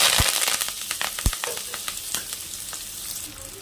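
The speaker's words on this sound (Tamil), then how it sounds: "ஒரு மீடியம் சைஸ் வெங்காயமும் ஒரு கொத்து கருவேப்பிலையும் ஆட் பண்ணிக்கிறேன்" Chopped onion and curry leaves hit hot oil with mustard seeds for brinjal thokku, producing a bright, crackling sizzle with sharp pops early on that settles into a softer, steady fry, no talk.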